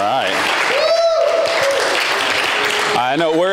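A church congregation at Arcata First Baptist Church applauds to welcome guest speaker Tom, with steady clapping and loud cheering voices and whoops rising above it.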